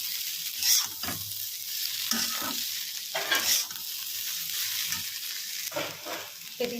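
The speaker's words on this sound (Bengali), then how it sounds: "গোলমরিচ গুঁড়োটা আগে মিশিয়ে নিই।" A spoon stirs black pepper powder into a vegetable curry in a pan, soft scraping strokes repeating over a light sizzle, fairly quiet and close, with no talking.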